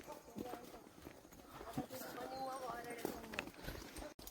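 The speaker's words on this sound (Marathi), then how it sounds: "पळय गोर गोव्या रेडा म्हणटा आमी कोंकणीन" Hooves clop unevenly on the ground as a gaur (Indian bison) walks nearby at Bondla Zoo, Goa, with people talking over the steps.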